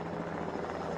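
A military army helicopter flies overhead with a steady low rotor thrum and drone, loud and unbroken through a very short stretch, with no voices over it.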